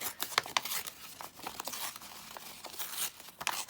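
Paper from a children's book being torn and crinkled in short bursts, a series of close, dry ripping and rustling sounds at fairly low volume with no voices.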